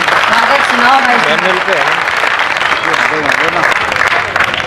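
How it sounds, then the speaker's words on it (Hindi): An audience claps steadily through a poetry recital by a poet, the applause dense and sustained, with a voice speaking over it throughout. "मैं तालियां बजा करके मुझे आशीर्वाद दे दीजिए"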